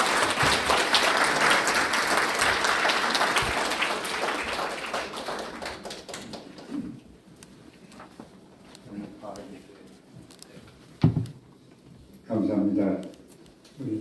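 An audience applauds to welcome a company chairman to a university guest lecture hall, a steady dense clapping for about six seconds that fades out, followed by someone speaking with scattered knocks and handling noises.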